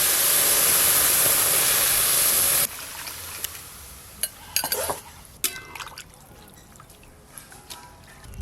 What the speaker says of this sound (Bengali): এবার ছেঁকে দুধটা কোড়াতে দিয়ে দেব।